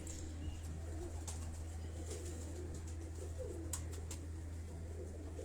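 A champion female flying pigeon from Ustad Ikhlaq Ahmed Khan's loft in Karachi coos softly and repeatedly, close by, over a steady low hum, with no talking.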